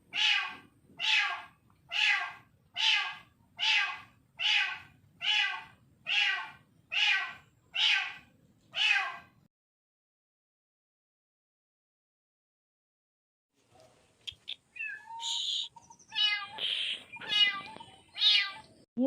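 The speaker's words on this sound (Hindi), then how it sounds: "ये बिल्ली जा भी नहीं रही है और घर के आसपास इतनी चिल्ला रही जिसकी कोई हद नहीं।" A cat meows loudly around a house: ten evenly spaced, drawn-out cries in a row, then silence, then a more ragged, overlapping burst of yowls.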